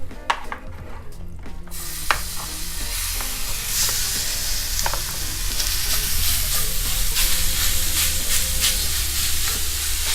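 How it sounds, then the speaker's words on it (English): Ground turkey browning in a hot pan, a steady close sizzle and fry hiss that holds for the whole stretch, with occasional scrapes and stirring knocks against the pan and no talking. "I'm gonna take my turkey here. Let's get this cooking. We're just gonna brown it a little."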